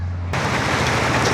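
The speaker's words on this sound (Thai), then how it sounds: "ฝนตกเดือน12" December rain starts suddenly and falls as a dense, steady hiss of drops striking a surface, loud and continuous, with no voices.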